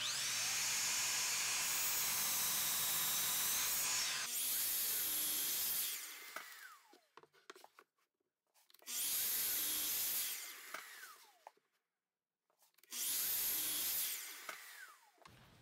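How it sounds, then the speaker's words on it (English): A miter saw cuts 45-degree corners off a wooden cutting board in three separate passes. Each cut brings a loud high whine as the blade spins up and bites the wood, then winds down into quiet gaps. "use the miter saw to cut a 45-degree angle on all 4 corners"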